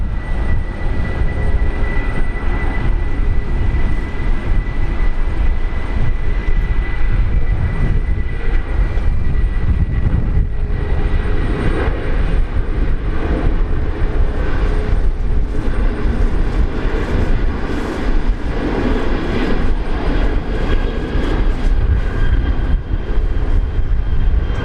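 Jetstar airliner landing on runway 19 left at Brisbane Airport, a steady loud broadband engine roar sustained throughout with a slight swell midway, no talk.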